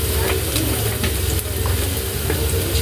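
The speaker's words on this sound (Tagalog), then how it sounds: "gisa na tayo ng bawang" Garlic sautéing in a pan, a loud, continuous close-up sizzle with faint clicks of stirring throughout, no one talking over it.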